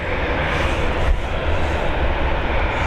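An airliner on runway 28L at Dublin Airport, a steady, loud broadband roar of jet engines filling the whole stretch without a break.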